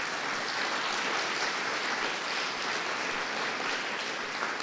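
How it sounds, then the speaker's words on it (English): Steady, dense applause from a convention audience fills the whole stretch, a broad continuous clatter of many hands with no voices over it. "give me a little bit more applause for the town of Devon"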